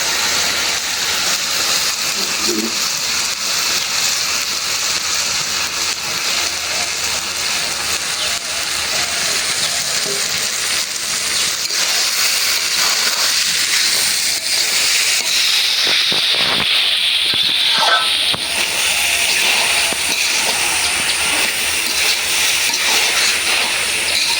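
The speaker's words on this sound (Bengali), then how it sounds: "মশলাটা কষাই নিলাম এখন দিয়ে দিব চাল আর ডাল" A sizzling fried spice paste has rice and lentils tipped into it, giving a loud, continuous hissing rush that swells and crackles in the middle, with faint voices underneath.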